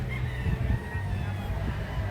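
A rooster crows at a stag and pullet show over a steady low hum and busy background noise, with other fowl sounds mixed in at moderate loudness.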